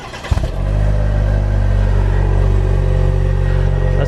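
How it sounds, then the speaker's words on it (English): Cold start of a turbocharged 2.7-liter four-cylinder in a 2020 Cadillac CT4-V: a short crank, then the engine catches and settles into a loud, steady, close idle rumble. "That's the sound of a cold start for the CT4-V."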